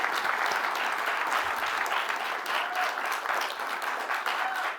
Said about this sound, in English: that was a really good clap